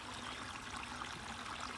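A spring-fed creek in Michigan flows near its source with a steady, close babbling trickle of water, no voices present.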